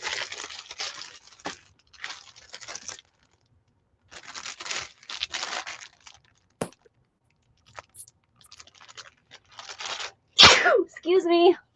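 A single sharp sneeze bursts out loudly near the end, following quiet stretches of crinkling and rustling handling noises, with a voice speaking briefly right after.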